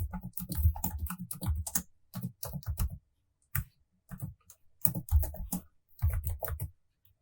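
Rapid keyboard typing while writing code for a stack push operation, bursts of crisp close key clicks separated by short pauses.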